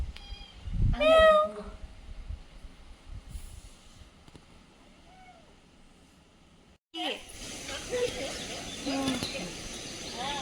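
A house cat gives a couple of short, close meows near the start, followed by quieter ambient sound and people talking, then louder outdoor noise toward the end.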